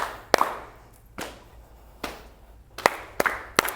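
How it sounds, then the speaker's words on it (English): Body percussion ostinato of lap pats and hand claps, sharp close percussive hits spaced unevenly, a few soft slaps between louder claps, no talking. "today I want to use some of those to do lap, lap, clap, clap, clap"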